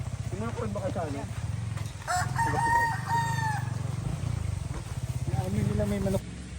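A rooster crows loudly twice, long drawn-out calls, over a low rumbling engine with people talking nearby, in General Nakar, Quezon.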